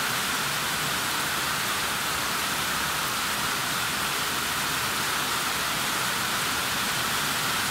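Heavy tropical rain pours down steadily during a long storm, water flooding toward a parking area; a dense, even hiss of rainfall fills the scene without pause and with no talking.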